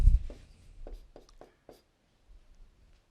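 Chalk or marker writing on a board during a math lecture on the chain rule: a few quick, separate scratchy strokes, close and fairly faint, with pauses between and no talking.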